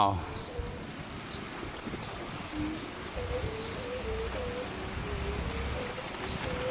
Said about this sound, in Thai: ลม27กิโลเมตรต่อชั่วโมง